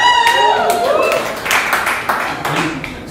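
Comedy club audience cheering and clapping, a dense wash of whoops and scattered claps filling the room throughout, with a few voices rising above the crowd.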